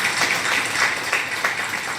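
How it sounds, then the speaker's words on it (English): A seminar audience applauds its speakers, giving a dense, even patter of many hands clapping together, steady and fairly loud with no voices. "A round of applause for them."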